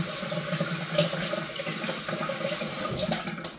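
Hot water runs steadily from a tap into a sink while a shaving brush is rinsed under it, a close continuous splashing stream.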